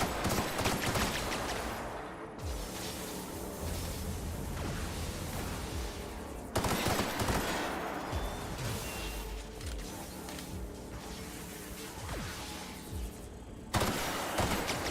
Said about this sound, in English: I'm gonna try to shoot him in the feet